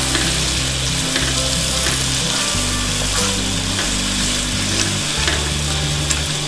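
Karahi masala fries in mutton stock in a wok, with a loud, dense sizzle and constant bubbling crackle as it is stirred.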